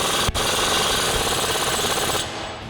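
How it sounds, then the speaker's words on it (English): Impact wrench with a 36mm socket tightening an axle nut during a 4-inch suspension lift install on a Silverado 1500, one continuous loud rattling burst of hammering that runs nearly three seconds, briefly catching near the start and easing off at the end. "We'll grab our 36mm socket on our impact to go ahead and tighten this back down."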